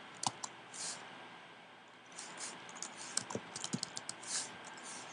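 Computer keyboard keys tap in quick irregular bursts alongside sharp mouse clicks at a desk, close and fairly quiet, with pauses between flurries and no talking.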